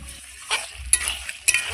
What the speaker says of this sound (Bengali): এটাকে কষিয়ে নিচ্ছি ভালো করে